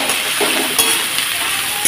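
Vegetables and green chillies tossed into hot oil in a wok give off a dense, continuous sizzle with a few light stirring scrapes, loud and close, with no voices.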